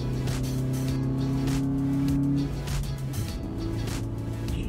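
A car drives along on a hot day, giving a steady engine hum heard from inside the cabin, its pitch shifting slightly midway, with faint background sounds.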